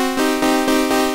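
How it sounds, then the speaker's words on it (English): A heavily limited wavetable saw tone from a synth in Ableton Live, sustained and loud with a dense buzzy harmonic stack, pulsing slightly in a steady rhythm over about a second with no voices. "So that's the sound of the wavetable that's heavily limited"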